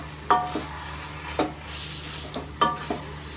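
Jackfruit sabzi sizzles in a pan while a spoon stirs it, with three or four sharp scraping strokes at irregular intervals over a steady close frying hiss and no voices.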